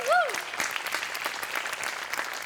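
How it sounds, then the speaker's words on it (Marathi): A live comedy-show audience applauds for Goswami: a soft, even wash of clapping that lasts throughout, opening with a brief whistle-like tone. "गोस्वामींसाठी एकदा टाळ्या वाजवा"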